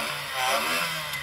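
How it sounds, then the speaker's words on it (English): A Reliant Regal three-wheeler's small engine revs with a buzzy, rasping drone, rising and falling slightly over about a second, close by and steady. "So I'm going to rev up this Reliant Regal."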